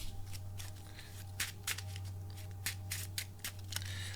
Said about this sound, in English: this gets shuffled in